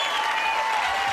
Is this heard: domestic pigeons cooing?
no